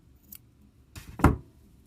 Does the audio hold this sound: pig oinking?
no